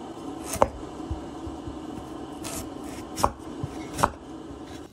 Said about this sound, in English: So first, just cut off the skin from the outside.